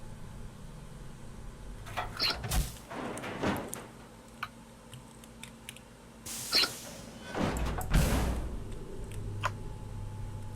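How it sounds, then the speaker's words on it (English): TARDIS console door in the Second Life game, a virtual mechanism that spins, unlocks and opens with a wheel: two separate bursts of whirring, clunking effects, each a few seconds long, over a quiet background. "it spins, unlocks itself, the wheel opens it, does all the cool sound effects"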